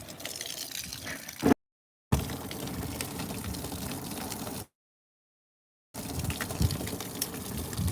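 Water rushes steadily from a valve into a container, a hissing, splashing flow broken by two short silent gaps.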